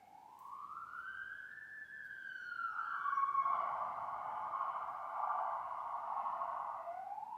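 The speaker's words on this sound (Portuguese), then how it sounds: "vai passar uma ambulância" An ambulance siren passes outside, a rising wail that settles into a sustained, wavering electronic tone, moderately distant and heard alone without speech.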